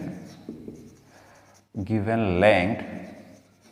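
Pen or marker writing out a math problem solution, scratching softly in short strokes before a person starts speaking over it.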